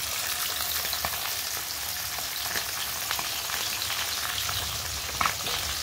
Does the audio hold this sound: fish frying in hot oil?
yes